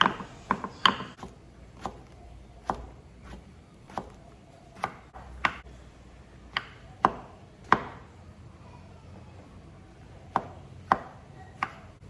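A knife chops a mushroom into small cubes on a cutting board. Sharp, close knocks fall at an irregular pace, a quick cluster first and then spaced strokes, over a quiet background.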